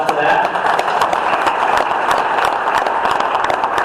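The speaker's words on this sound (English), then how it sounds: "Let's give a big round of applause for that" Sustained round of applause from the crowd at a local MAGA political group meeting, a dense, steady clatter of many hands clapping with scattered cheers and voices mixed in.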